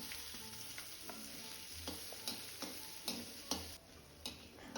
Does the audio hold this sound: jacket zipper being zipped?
no